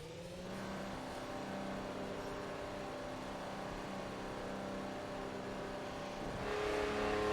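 A 1975 Ferrari 312T Formula One car's engine in a VR racing game holds a steady, buzzing harmonic drone that shifts pitch near the end, heard close and alone without talk.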